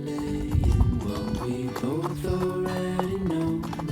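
Mustang horses' hooves clip-clop along a mountain trail in Virginia, a steady walking rhythm of close, moderately loud hoofbeats over a busy mix of other sounds, with no talking.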